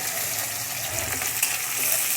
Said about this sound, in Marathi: त्याला एक थोडंसं हलकासा सोनेरी रंग येईपर्यंत आपल्याला फ्राय करून घ्यायचं आहे.